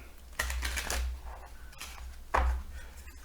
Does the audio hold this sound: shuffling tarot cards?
yes